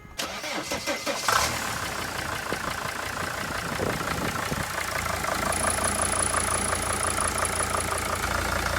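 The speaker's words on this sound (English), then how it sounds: "Now to start the van and take it for a test drive." A 2002-2006 T1N Sprinter van diesel engine cranks and catches after a turbocharger replacement, then settles into a steady, fairly quiet clattering idle with a faint high whine, no talk.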